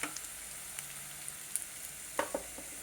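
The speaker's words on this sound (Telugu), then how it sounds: "ఉల్లిపాయలు వేసి వేగనిచ్చి అల్లం ముక్కలు, వెల్లుల్లిపాయలు సన్నగా తరిగింది అంతా వేగించి" Chopped onions, ginger and garlic frying in a pan, a faint steady sizzle with a few sharp ticks and clicks of stirring scattered through, no voices.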